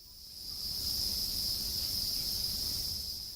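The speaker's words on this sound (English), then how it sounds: "That sound, 45-day-old male crickets trilling out their mating call." A continuous high, shrill trill of 45-day-old male crickets' mating call in a cricket breeding room in Italy, steady and fairly loud, swelling in briefly at the start and holding without pause.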